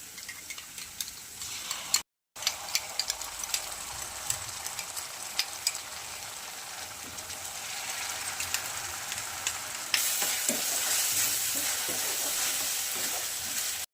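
Vegetables and sauces for Manchow soup stir and sizzle in a hot pan, a steady frying hiss with scraping stirs, briefly cut out then growing louder; no talk.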